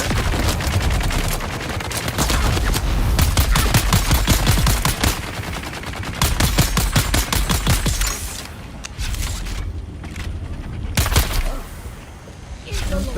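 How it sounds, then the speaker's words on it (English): Rapid bursts of enemy gunfire in the video game Dune Awakening crackle loudly and almost continuously, with short lulls between volleys, while a player talks over the shooting. "They're shooting."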